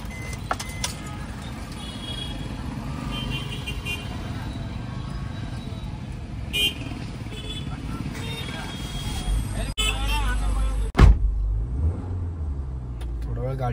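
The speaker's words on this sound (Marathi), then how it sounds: "थोडा वेळ गाडी चालू ठेवतो आणि गरम करतो" A car engine idling to warm up after a night of heavy rain, a steady low rumble close by that runs through the whole stretch, with a brief louder thump near the end.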